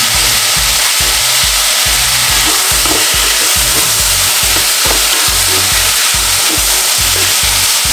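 Spring onion and pepper fry loudly in a pan, a steady broadband sizzle with regular scraping stirs knocking through it, continuous and close throughout.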